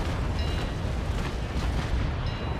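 A ship's cannon broadside in Naval Action, Trincomalee against Belle Poule, a loud sustained roar of heavy booms blending into one rumbling, wide blast with no clear gaps.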